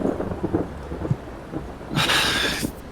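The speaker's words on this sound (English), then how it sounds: "the winds start to pick up outside, and it sounds like storms beginning to crash off in the distance" A thunderstorm breaks in the distance: low rumbling with faint rain runs throughout, and a louder crashing roll of thunder swells in near the two-second mark and carries on to the end.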